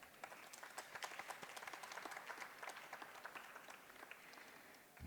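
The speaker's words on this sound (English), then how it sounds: "Please give her a huge round of applause." Audience applause at a literary festival session, a very faint, distant patter of many hands clapping that runs steadily and tapers off toward the end.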